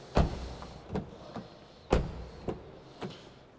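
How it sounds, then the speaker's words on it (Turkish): The heavy door of a 2025 Cupra Leon VZ Line thuds shut, followed by a few lighter knocks and clunks spaced out at close range, with quiet pauses between them. "Kapı sesi."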